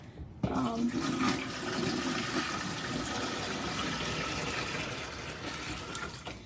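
Water gushes steadily from a tap into a pot being filled for canning apples, a loud, continuous rushing splash that runs through the whole stretch.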